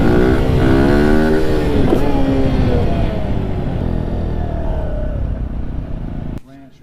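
A car engine pulls steadily in first gear, a loud, continuous drone with rising and falling pitch sweeps as revs change, running close up for several seconds before dropping away abruptly near the end.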